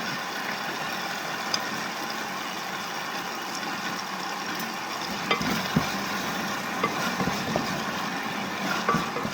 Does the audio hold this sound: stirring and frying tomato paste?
yes